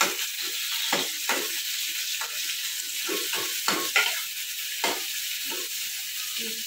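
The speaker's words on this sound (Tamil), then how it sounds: "வெங்காயத்தை போட்டு வதக்கிப்போம்." Onions sautéing in hot oil in a kadai, a steady close sizzle broken by repeated scraping stirs of the spatula, with no voices.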